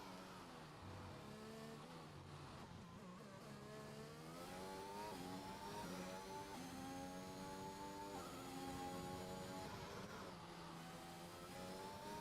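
A McLaren Formula 1 car in a racing game starts a flying lap, its engine whining loud and steady while the pitch climbs and drops through gear changes.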